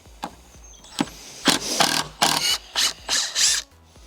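A Carpenters Mate wood screw being driven back out of timber: a few light mechanical clicks, then a series of loud, evenly spaced whirring bursts close by, each a second or less long.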